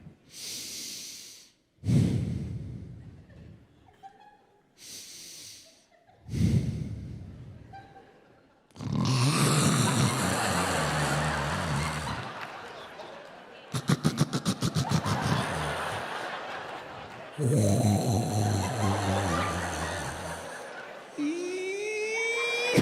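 A stand-up comedian imitates a woman's loud snoring: repeated harsh, rasping snorts and drawn-out wheezy breaths, with quiet gaps between them, close and exaggerated.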